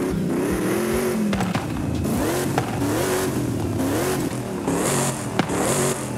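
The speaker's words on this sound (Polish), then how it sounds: "Kurde, sportowy wydech kozak" A Toyota engine fitted with a sport exhaust and compressor revs repeatedly in Forza Horizon 5, loud and close, pitch rising and falling through several throttle blips with brief pops between.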